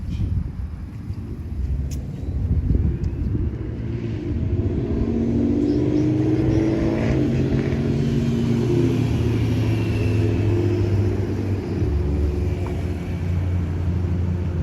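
Street traffic rolls past a sidewalk where a police encounter is taking place, a continuous low engine rumble with vehicles passing and fading, moderately loud, with no voices.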